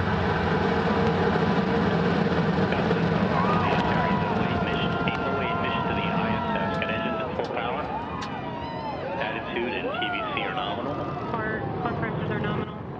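An Antares rocket ignites and lifts off with a continuous, heavy rumbling roar that holds steady throughout, while an announcer's voice talks over it.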